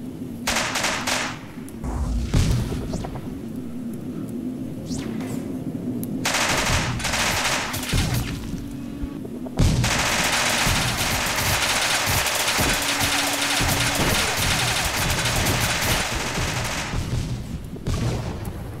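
Rapid machine-gun fire blasts a turret in the space game Starfighter Infinity, dense loud bursts with a brief lull before a sustained barrage through the second half.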